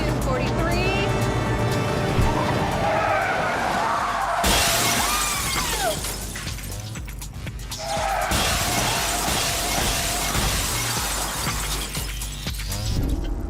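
A truck brakes hard and crashes into a glass pane at full speed, a sudden loud shattering burst around the midpoint amid engine and road noise, with a narrator talking over parts of it.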